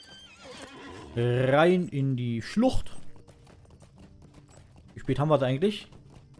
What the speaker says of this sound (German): rauf auf Pferdchen